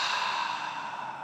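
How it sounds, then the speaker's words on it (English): A long, steady breath pushed out through the mouth during a gentle yoga breathing exercise, a soft airy rush that fades slightly over about a second, close and alone. "And then exhale out through the mouth."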